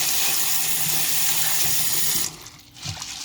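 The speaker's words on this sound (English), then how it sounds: "Now usually wash your peas twice just to be safe." Tap water runs steadily into a sink while dried peas are washed for Jamaican rice and peas, a loud close gush that cuts off near the end, leaving a few small splashes and handling sounds.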